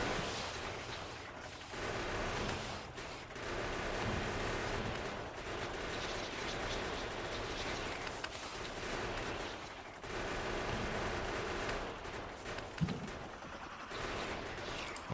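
Tank cannon fire and grenade explosions in the game Factorio form a dense, continuous roar of rapid gunfire and blasts, loud and unbroken, with only brief dips in intensity.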